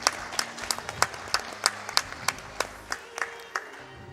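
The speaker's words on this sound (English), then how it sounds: "So give yourselves a round of applause." Audience applause at the SGDQ 2018 speedrun marathon after a Disgaea 5: Alliance of Vengeance run, a steady wash of many hands clapping with sharp individual claps standing out, filling the room throughout.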